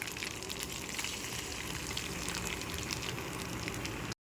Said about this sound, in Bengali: প্রথমে আমি গরম তেলের মধ্যে কারি পাতা দিয়ে দিচ্ছি।